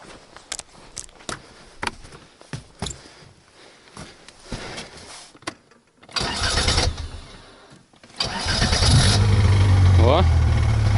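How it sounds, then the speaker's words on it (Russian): A Taiga Varyag 550V snowmobile in snowy winter woods, clicks and handling noises, then the starter cranks and the engine catches into a loud, steady idle close by, with someone talking in between. "О, и стартер заработал."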